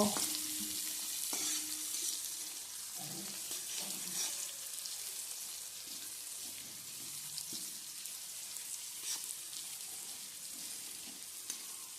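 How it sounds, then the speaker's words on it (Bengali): Chopped onions fry in hot oil for a Bengali fish-bone chorchori, a steady close sizzle with occasional stirring scrapes and no talk. "পেঁয়াজটাকে তেলে দিয়ে আমি খুব ভালোভাবে পেঁয়াজটাকে ভেজে নেব।"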